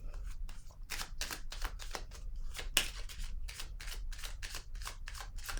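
Tarot cards handled and shuffled during a reading, a quick irregular run of soft close-up flicks and slaps continuing throughout, one sharper snap near the middle, no talking.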